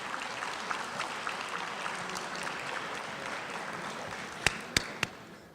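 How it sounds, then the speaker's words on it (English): A room of attendees at a Brookhaven business-building event applauds the council with steady, moderately faint clapping. A few sharp, isolated claps or knocks stand out near the end. "How about a nice round of applause for the council?"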